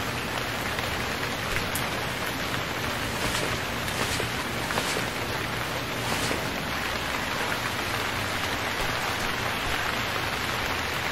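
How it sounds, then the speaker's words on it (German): Steady, dense rain in the video game Stranded Deep falls continuously with a hissing wash and occasional louder drops, no voices, evenly loud throughout. "Ah doch, es regnet noch."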